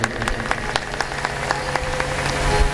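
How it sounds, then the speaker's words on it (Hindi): An audience at a Bhagwat katha, a Hindu religious discourse, claps in scattered, uneven applause that stays moderately loud and continues steadily, with no speech over it. "सभी ताली बजाइए।"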